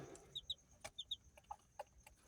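Hens cluck in short, repeated bursts close by, with soft chirping calls of chicks between them and no talking.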